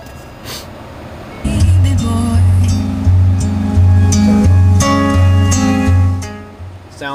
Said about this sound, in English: Give you a sample of the sound system.